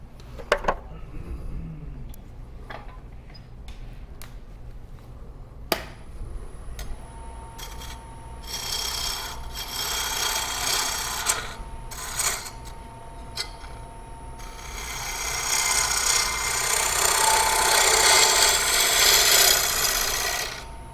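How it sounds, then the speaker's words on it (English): A lathe tool makes a push cut on a wooden bowl during a woodturning demonstration, giving a continuous rasping, scraping sound that builds and grows louder toward the end, with scattered ticks and clicks from the tool along the way. "I'm going to kind of push cut up here a little bit"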